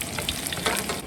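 Ginger, garlic and Sichuan peppercorns sizzle and crackle in hot oil in a wok, a close, dense frying hiss with stirring scrapes and no talk.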